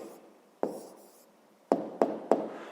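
A pen writes an answer on paper, several short scratching strokes with brief pauses between them, close and quiet with no one talking.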